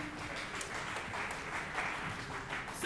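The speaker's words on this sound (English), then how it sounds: "big round of applause" An audience at a creator event applauds, a soft, steady wash of many hands clapping heard from a distance, continuous and even, swelling slightly at the end.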